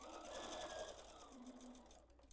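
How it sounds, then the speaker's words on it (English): A sewing machine stitches a quilted table runner diagonally from corner to corner, its fast, even needle rhythm running steady and close before slowing to a stop. "Sewing diagonally, corner to corner"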